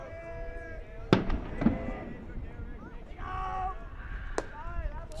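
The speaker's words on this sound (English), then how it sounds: "More fireworks going off in the background, just in case you're curious." Fireworks go off in the distance during a baseball game, with a few sharp bangs and crackles spaced across a few seconds beneath ongoing commentary.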